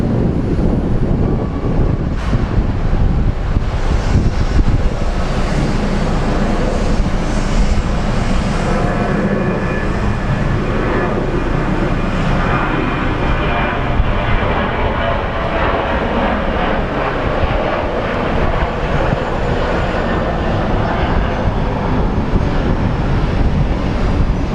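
A fixed-wing airliner takes off at Sky Harbor International Airport, its loud engine roar sustained and broadband throughout, heard from nearby with wind buffeting the microphone.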